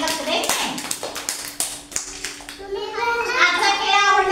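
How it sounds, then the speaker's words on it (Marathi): Children in an anganwadi classroom in Dhalgaon clap their hands in a burst of sharp, uneven claps, then children's voices chatter over the fading clapping. "छान, टाळ्या वाजवा."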